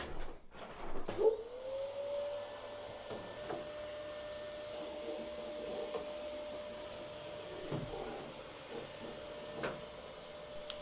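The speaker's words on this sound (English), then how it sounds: "Do we want to give this a little vacuum?" After a few clicks, a vacuum cleaner motor spins up and runs with a steady whining drone, close by, with occasional knocks and rustles.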